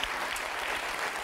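Studio audience on a French game show applauds Alain Jacob, president of the Fédération du Folklore de France, a dense, steady wash of clapping that fills the short moment without any voices.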